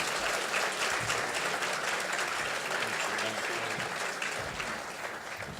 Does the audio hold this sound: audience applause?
yes